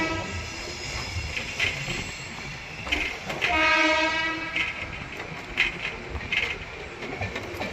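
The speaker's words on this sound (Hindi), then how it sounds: "और इस साइड भी कोई ट्रेन लगी हुई है।" A train at Jalandhar Cantt junction station sounds its horn in a long sustained blast amid rumbling wheels and station noise, with shorter horn toots and clatter around it.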